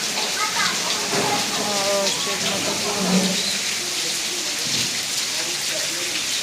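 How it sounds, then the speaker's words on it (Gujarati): Steady rain falls outdoors in Gujarat, a constant close hiss of drops on surfaces running throughout, while people talk briefly over it. "પણ હજુ વરસાદ થોડો થોડું ચાલુ જ છે."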